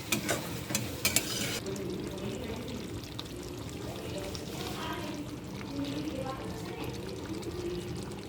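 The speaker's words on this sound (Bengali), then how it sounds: "সামান্য পরিমাণ জল দিয়ে দিচ্ছে।" A little water is poured into chicken masala cooking in a pan. A brief splashy pour with a few clinks is followed by a steady low bubbling sizzle, close and moderately loud.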